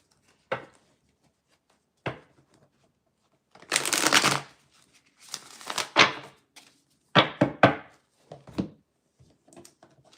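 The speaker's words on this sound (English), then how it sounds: "I'm going to shuffle this one and then we'll get started" Rider-Waite tarot cards being shuffled by hand, several separate bursts of riffling and sliding card noise with short pauses between them, close and fairly clear, no talking.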